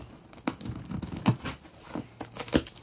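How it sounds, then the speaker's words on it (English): Scissors snip and tear through parcel wrapping and packing material at close range, with short crinkling, tearing cuts coming in bursts and no voices. "if my scissors will work."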